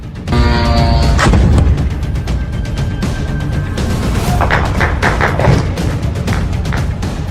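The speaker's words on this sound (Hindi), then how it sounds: "धमाकों से गूंज उठी मनामा की रात।" Several heavy explosions boom one after another over a continuous low rumble at night in Manama, with a distant steady tone fading at the start.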